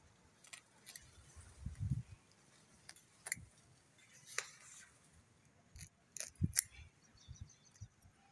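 Scissors snip through aloe vera leaves spotted with black fungal dots, giving a few quiet, separate crisp cuts with soft handling noise in between.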